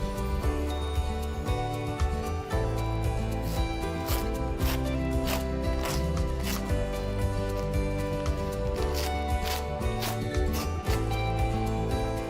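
Strips of Korean hanji paper rip one after another at fairly even intervals, each a brief crisp tearing burst near the listener, over a continuous quiet musical bed.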